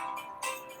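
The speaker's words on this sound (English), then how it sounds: "That is my phone." A mobile phone ringtone sounds briefly and alone, a bright electronic tone that swells near the end of the short burst.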